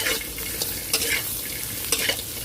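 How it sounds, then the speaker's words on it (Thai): Okra stir-fried with salt in a pan, with irregular spatula scrapes and clinks over a steady, bright sizzle, close and moderately loud, with no talking. "แล้วก็ใส่กระเจี๊ยบลงไปผัดเลยค่ะ ผัดกระเจี๊ยบให้นิ่มดีเลยนะคะ"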